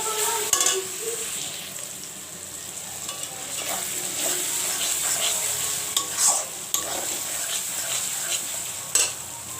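Garlic fries in a pan for chicken biryani, a steady broadband sizzle with scraping stir strokes and a few sharp utensil clicks running throughout, close and fairly loud, with no talking.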